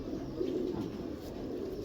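A pigeon gives a soft low coo or two, close but faint, against a steady muffled background hum.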